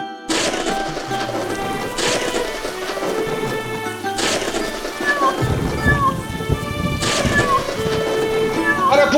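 A cartoon cat meows a few times over a thunderstorm, with rumbling thunder and steady rain beneath, while voices speak.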